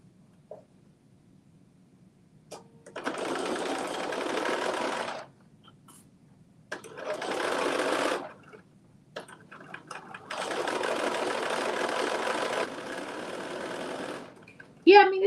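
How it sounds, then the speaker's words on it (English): Sewing machine stitching a garment seam in three runs of steady whirring, each lasting a few seconds, close and moderately loud, separated by quiet pauses. "I'm stitching the other side."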